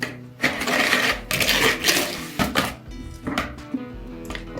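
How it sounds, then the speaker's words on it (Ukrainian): Eggs whisked in a bowl with sugar, vanilla sugar and salt for a homemade yeast doughnut dough, giving a fast, steady clatter of utensil against bowl, close and fairly loud, with no talking. "вбиваю сюди яйця, додаю цукор, ванільний цукор, сіль і перемішую"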